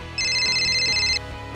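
A phone ringtone for an incoming call, one bright electronic ring pattern lasting about a second, then starting again at the end, close and loud with no talk.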